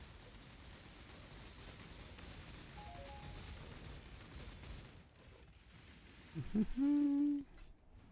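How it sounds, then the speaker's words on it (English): In a video game's quiet mines level, an owl gives a loud, close hoot near the end, a single drawn-out call rising above a faint hiss of ambient noise. "it is quiet enough you can hear owls"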